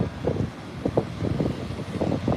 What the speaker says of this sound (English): but it is quite windy